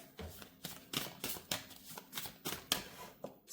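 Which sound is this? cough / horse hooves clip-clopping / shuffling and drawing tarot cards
shuffling and drawing tarot cards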